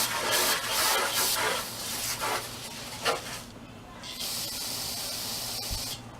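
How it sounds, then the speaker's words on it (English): Carburetor cleaner sprays in several short hissing bursts through the jet holes of a 12 hp Murray lawn tractor carburetor, close to the mic, with a longer steady spray near the end. "See if I can get it to spray out through the holes though."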